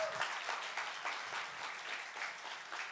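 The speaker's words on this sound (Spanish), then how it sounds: "Un aplauso fuerte para el Señor." Church congregation clapping together in praise, a faint, continuous wash of many hands heard at a distance, steady throughout with no voices over it.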